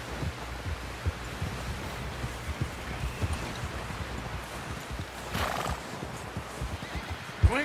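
A horse neighs and its hooves clip-clop in Red Dead Redemption 2, set against a busy game soundscape. A brief, louder whinny rises near the middle, and the sound stays steady and moderately close throughout.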